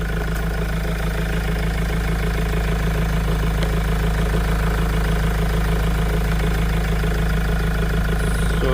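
A 2014 Mahindra XUV500 W8 idles with a steady, even engine rumble, close and continuous with no one talking.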